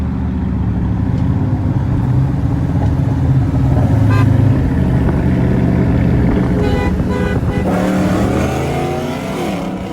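A Dodge Charger R/T's engine roars loud and steady throughout, with a sustained drone and rising pitch suggesting hard acceleration, along with some wind and road noise.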